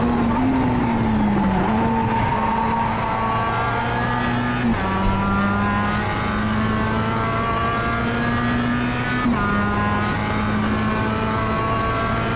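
Mazda MX-5 race car engine in iRacing at Bathurst: a continuous loud engine note that climbs steadily through the revs, broken by two quick upshifts where the pitch drops, with a little tire noise and no voices.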